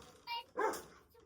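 An excited pet dog greets someone arriving home with two quick, sharp barks close by, the second louder and higher, with a faint whine in between.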